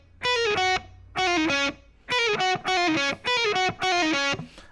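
Distorted electric guitar plays legato licks from a solo, six quick bursts of fluid hammered and pulled notes separated by short gaps, loud and clear with no talking.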